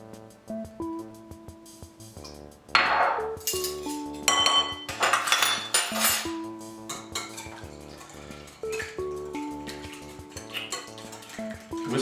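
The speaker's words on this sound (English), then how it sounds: "Whisk all that together nicely." Quick metal clinks of a utensil whisking wet banana bread batter with almond extract in a bowl, rhythmic taps and scrapes over steady background music.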